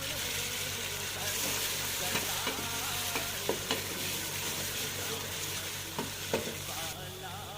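Ginger garlic paste frying with browned onions in a pan, a steady sizzle with occasional stirring scrapes, continuous and moderately quiet throughout.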